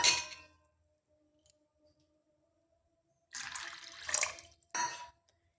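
Water splashes into a bowl of washed sago in short close bursts, a brief pour at the start, then a longer gush and one more quick splash after a silent pause.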